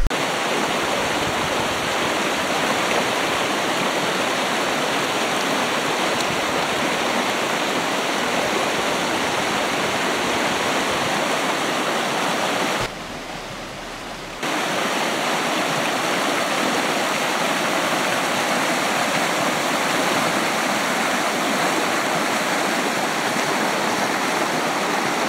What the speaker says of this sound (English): Got the confluence of two different creeks there.